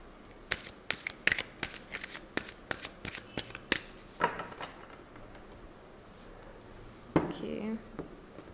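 A deck of tarot cards being shuffled by hand, a series of crisp riffling snaps and flicks repeating in quick bursts close by, with a longer rustling riffle near the end; no talk.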